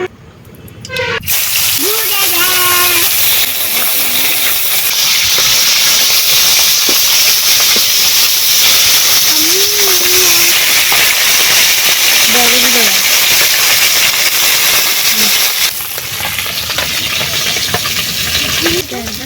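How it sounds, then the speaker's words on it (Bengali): Fish fry in hot mustard oil in a wok, giving a loud, steady sizzle and hiss throughout, with occasional stirring and a brief voice over the cooking. "এবারে মাছগুলো ভাজবো কড়াইতে নিয়ে দিচ্ছি সরষে তেল"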